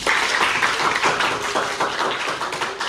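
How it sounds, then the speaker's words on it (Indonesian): Classroom students applaud together at a performance-assessment lesson, a dense burst of many hands clapping close by, steady and fairly loud throughout. "kita kasih tepuk tangan"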